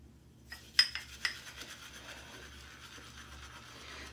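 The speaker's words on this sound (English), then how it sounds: "let's get lathering." Shaving brush swirling and rubbing soap into lather in an old Viking blade bowl, a soft continuous scrubbing rasp with a few sharper scrapes near the start, close and fairly quiet.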